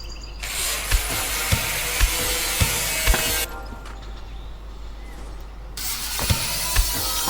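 An angle grinder in the video game Junkyard Simulator 2024 gives a loud, continuous, harsh grinding rasp with light clicks. It cuts out for about two seconds midway, then starts again at full strength.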